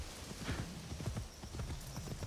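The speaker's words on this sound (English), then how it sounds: "the horse comes to you and then you immediately hop on" Horse hooves clip-clopping in a steady trotting rhythm in the video game Assassin's Creed Shadows, close and clear with no other sounds over them.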